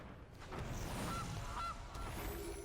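Gilded Goose card honk effect in the MTG Arena digital card game, three short, evenly spaced nasal honks over a steady hum of game background sound, with no talk.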